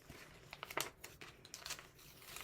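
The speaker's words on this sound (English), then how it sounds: "Sorry, I'm really bad at turning pages." Paper pages of a picture book being turned by hand, giving a run of soft crinkles and short crisp rustles spread across a couple of seconds, faint and close with no talking.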